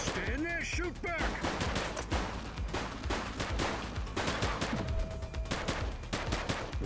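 Sustained gunfire during a police shootout in The Precinct: dense, continuous volleys of shots that barely let up, with voices calling out over the noise.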